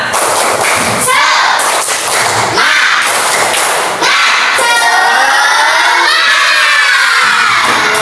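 A fourth-grade classroom of children bursts into a loud, rhythmic unison clapping cheer, sharp bursts of claps and shouting voices repeating in quick succession, close and energetic throughout.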